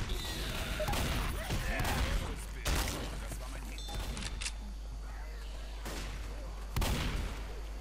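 Gunfire rings out in the zombie shooter game Left 4 Dead, several loud sharp shots spaced irregularly, some in quick bursts, over a low steady game rumble.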